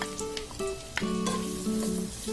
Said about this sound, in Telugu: బ్రౌన్ కలర్లో వచ్చేంత వరకు ఫ్రై చేసుకున్నాము